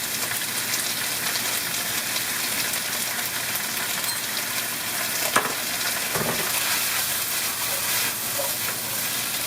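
Noodles for Pad Kee Mao sizzle steadily in a hot pan with sauce and sugar, a dense continuous frying hiss with a few scraping stir strokes.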